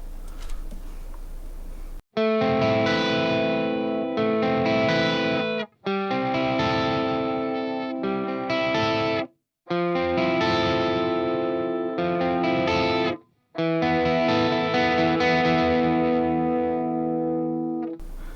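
Electric guitar through a Neural DSP Fortin NTS plugin with lowered gain plays strummed chord phrases in a mildly driven tone, four bursts separated by brief silences.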